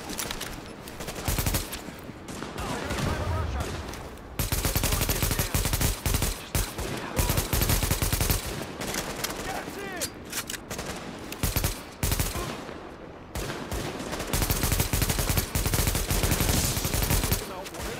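Rapid bursts of automatic gunfire and single shots from The Division, a third-person shooter game, crackling loudly in repeated volleys with short lulls, under occasional faint voice chatter.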